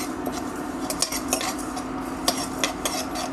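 Whole cumin, fenugreek, peppercorns, cloves, cardamom and cinnamon fry in a pan for chicken pickle, with repeated metal spoon scrapes and clinks over a soft steady sizzle, close and moderately loud.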